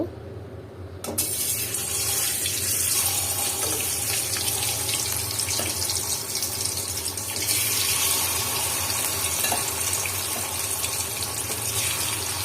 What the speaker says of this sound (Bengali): তেলটা আমার গরম হয়ে গেছে আমি এখন মাছগুলো দিয়ে দিব